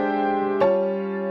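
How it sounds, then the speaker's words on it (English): A jazz piano comping chord, rootless voicing in the left hand with added harmonies in the right, rings out sustained, then a second chord is struck midway and held, played alone at moderate volume. "what I would call a rootless chord in the left hand, and then additional harmonies in the right"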